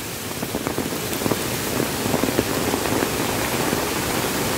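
Heavy rain pours down with strong wind while water rushes through a drain culvert below, making a dense, steady hiss and splatter with scattered louder drips, loud and close, and no voices.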